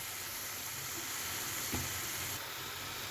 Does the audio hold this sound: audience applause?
no